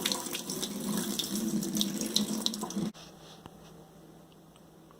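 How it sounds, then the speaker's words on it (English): Water poured from an under-sink water filter housing during a filter change for a GE GX1S01R system, a steady close splashing flow for about three seconds that then stops, leaving quiet. "Pour out the water from the housing."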